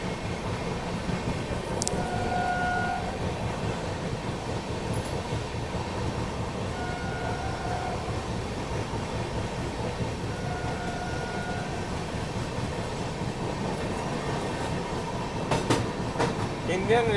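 An Indian Railways WDM diesel locomotive hauls a passenger express, heard from inside the train as a steady, continuous rumble with faint clatter of the wheels throughout.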